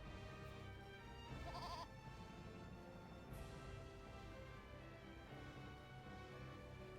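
A goat bleats in the video game Eternal Sonata, a short nasal cry heard over a steady music and ambience bed, with a brief second chime-like accent afterward.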